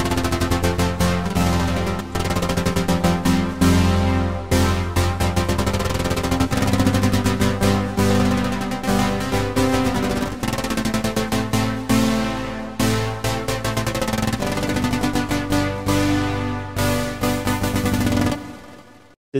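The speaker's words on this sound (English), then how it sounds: "Synth Everywhere has a really cool modulation on the LFO and sounds like this." Dense synth patch called Synth Everywhere, its LFO modulation pulsing rapidly through sustained chords, a busy, continuous shimmering texture that runs loud and unbroken before cutting off abruptly.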